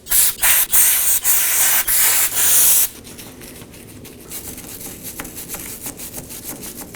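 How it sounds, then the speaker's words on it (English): Wire brush scrubbing the hub mating surface during a rear wheel bearing and hub replacement on a 2018-2024 Chevrolet Equinox, loud rapid rasping strokes in bursts for about three seconds, then quieter scattered scratching. "let's go ahead and prep our mating surface. I'll be using some brake cleaner and a wire brush."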